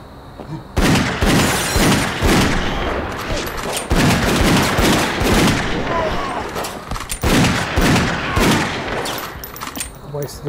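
Repeated gunshots in the video game Dead Second, loud sharp cracks in irregular bursts across the span, with someone talking over parts of it.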